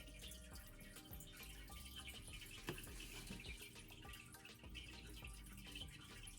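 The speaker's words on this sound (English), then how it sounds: "You should be able to see the water draining" Water draining and trickling out of a freshly repotted, saturated houseplant sitting in a sink, a steady low splashing wash with a few faint drips, close and continuous throughout.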